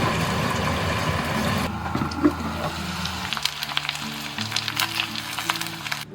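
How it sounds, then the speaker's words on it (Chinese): Eel pieces topped with green and red chillies, scallions and a splash of strong liquor bubble hard over high heat in a covered clay pot, giving a steady close hiss and rumble with light crackles. "大火给它煮沸1分钟"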